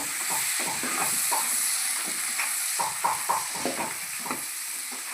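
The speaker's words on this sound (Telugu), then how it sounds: "ఈ మూడింటిని ఫ్రై చేసుకుందాం" Green chillies and carrots frying in a pan, a steady sizzle and hiss with repeated clicks and scrapes of stirring running throughout, close and fairly loud, with no talking.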